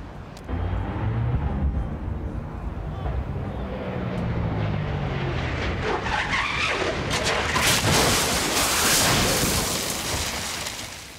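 An NHRA drag racing funny car's loud roaring engine and tire skidding build into chaotic crashing and scraping noise, with a rushing, distant quality and no clear speech.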